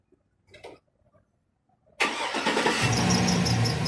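A GMC Yukon being started for air-conditioning service: a few faint clicks and a short rustle in near silence, then the engine abruptly catches and settles into a loud, close, steady idle with the blower running.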